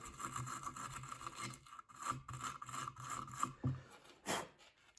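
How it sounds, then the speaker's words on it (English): A brush rasps back and forth in short, quiet strokes, scrubbing excess residue from a wiring connection on a John Deere 400 laid on wood, with an uneven scratchy rhythm and no talk. "I'm going to brush this a little bit just to remove the excess residue around the connection."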